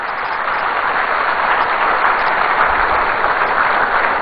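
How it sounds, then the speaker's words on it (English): Applause from an audience at a political rally in Accra, Ghana, held for the Arise Ghana group, roars loud and steady as a dense, continuous wash of clapping. "shall we give a resounding round of applause to Arise Ghana"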